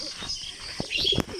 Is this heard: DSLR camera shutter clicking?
no